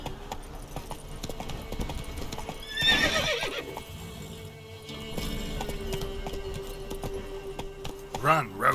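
Roach, Geralt's horse in The Witcher 3, gallops with a steady clip-clop of hooves. A whinny breaks out partway through, and game voices speak over the gallop.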